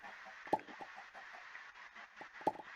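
Chickens in the Minecraft Ragnamod VII modpack give two short, sharp clucks about two seconds apart over a steady hum of game ambience, with no talking.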